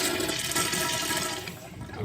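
Water rushes loudly and steadily through a Sloan urinal flush valve just after the supply is reopened, a dense continuous flow that eases slightly near the end.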